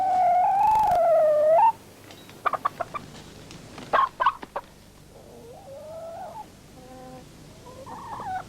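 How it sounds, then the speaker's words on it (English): Hens kept in battery cages cluck and squawk, with a loud drawn-out call at the start followed by scattered short clucks and quieter warbling calls nearby. "It's quite unusual to have hens as aggressive as this."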